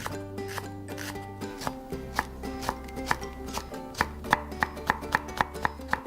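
A knife chops onion and green onion on a cutting board in a steady run of crisp, close knocks, speeding into quick, even strokes near the end, with no talking.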